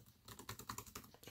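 Quick, soft key presses on a Surface Book 2 keyboard form a brief run of close, muted clicks at a steady typing rhythm, faint and alone.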